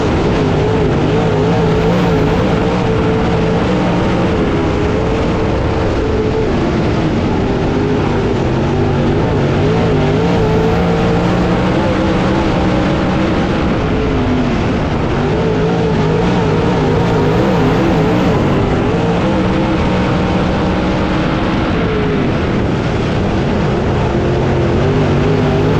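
Race cars roaring away at the start of a dirt-track race at I-75 Raceway, a dense, loud, continuous wall of engine noise with revving and shifting pitch from a full field, no speech.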